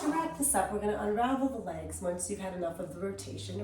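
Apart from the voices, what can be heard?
No everyday noise stands out behind the speech.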